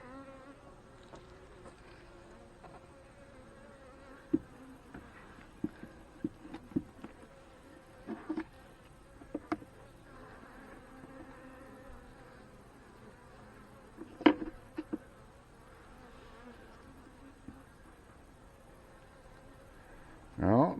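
Honey bees buzz steadily around an open hive during a beekeeping inspection, a continuous close drone with occasional sharp knocks and handling clicks and brief speech nearby.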